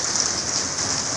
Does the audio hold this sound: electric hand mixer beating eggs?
no